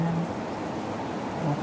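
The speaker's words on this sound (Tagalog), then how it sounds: "Ang lakas pa ng ulan." Heavy rain pours steadily outside a house, a constant wash of hiss heard from indoors with no pauses.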